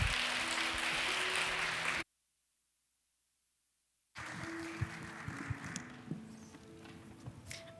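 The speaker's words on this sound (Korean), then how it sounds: "우리 다시 한번 우리 고정민 장로님께 큰 박수로" A church congregation at a Wednesday morning women's service applauds an elder: a dense wash of clapping for about two seconds, then a sudden gap of silence, followed by quieter room sound with low sustained tones.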